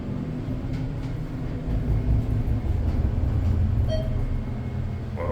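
A ThyssenKrupp-modernized elevator originally installed by General, in a building on Stickney Point Road in Sarasota, Florida, giving a steady low rumble during the ride with faint intermittent clicks, continuous and fairly loud.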